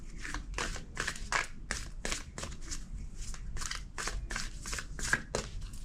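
Quick riffling bursts of tarot cards being shuffled, repeated in a steady rhythm, close and fairly quiet.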